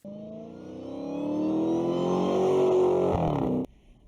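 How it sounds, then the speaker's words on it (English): A supercharged V8 car engine revs up with a rising supercharger whine layered over a deep rumble, growing louder before cutting off sharply. "you get that spine-chilling Supercharger whine, and when it passes, it's a mean V8"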